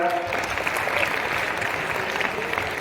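Applause from a young audience at a Shiv Jayanti lecture, steady mid-level clapping filling the room throughout, with a faint voice or tone briefly at the start.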